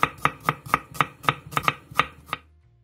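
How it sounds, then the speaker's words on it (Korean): A knife julienning zucchini, carrot and onion on a cutting board, about ten crisp, evenly spaced chops close up, then stopping. "애호박 1개, 당근 3분의 1개, 양파 1개는 얇게 채 썰어주세요."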